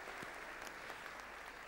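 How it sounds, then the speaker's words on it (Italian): An audience at an evening television season event applauds, faint even clapping running through the brief stretch at a low level, distant and unbroken by talk. "Grazie per l'applauso,"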